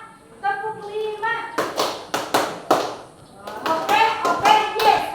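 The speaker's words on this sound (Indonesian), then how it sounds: "Hanya tepuk tangan saja." A classroom of children claps in unison in short rhythmic bursts, sharp and fairly close, following spoken counting and chanted words, with pauses between the clap groups.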